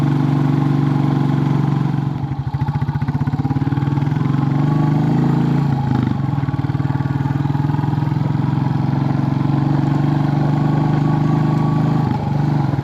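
Royal Enfield Bullet 350 single-cylinder motorcycle on a sunny road ride, its loud steady thumping engine close and continuous, with brief dips and surges as the throttle shifts.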